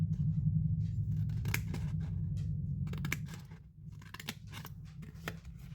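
Scissors snipping through a papercraft advent calendar box along its score lines, a close series of crisp cuts and paper rustles over a low room hum.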